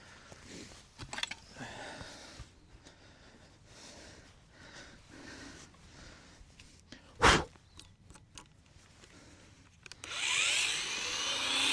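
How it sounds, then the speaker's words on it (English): An Azito angle grinder cuts an old dairy shed power cable just below ground level, whirring up loud and harsh near the end after a stretch of quiet rustling and handling noises. "I'm just going to get the mighty Azito angle grinder out and we'll cut it off just under the ground level"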